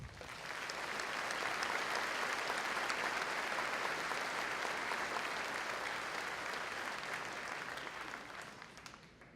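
An audience at a Ferris State University commencement ceremony applauds in sustained, dense clapping that swells quickly, holds steady for several seconds, then tapers off, with no voices over it.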